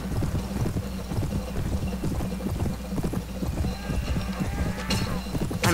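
A horse gallops at high speed in the video game Mount and Blade Warband with the 1755 Old Frontier mod, its rapid, evenly repeating hoofbeats running throughout and a brief burst of noise near the end.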